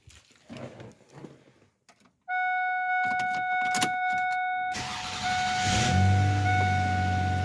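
Truck engine cranking on a newly replaced starter: a brief whirring crank, then the engine catches and settles into a steady, close idle with a persistent whine, rising slightly in loudness near the end, no talking.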